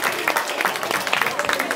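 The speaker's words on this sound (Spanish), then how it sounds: "Un aplauso para la señorita Natalia." A crowd claps for a contestant at a dance battle to SHINee's Ring Ding Dong and BEG's Abracadabra, a busy, even patter of hands close by with voices running through it.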